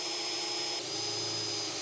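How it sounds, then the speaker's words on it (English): Steady whirring of a power drill boring holes through the firewall of a car during an electric brake booster install, continuous and close for the full moment with no pauses or voices. "I drilled holes through the firewall"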